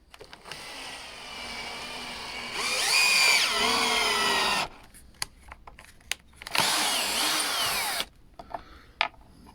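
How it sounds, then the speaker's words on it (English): Power drill countersinking a screw hole in a wooden hospital bed headboard mount, two close whining bursts of a couple of seconds each, separated by quiet handling clicks and taps. "So I just countersink this one a little bit."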